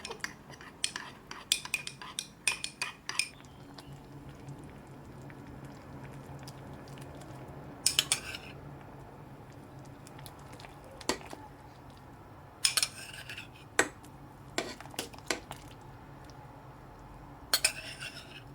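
A spoon stirring agar-agar clinks against a bowl in scattered bursts of light metallic taps, with quieter stretches of faint scraping in between.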